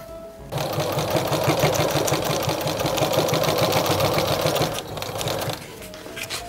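Sewing machine stitching a tote bag made from fused plastic bags, a fast rhythmic mechanical chatter running steadily for several seconds, close and moderately loud, then stopping.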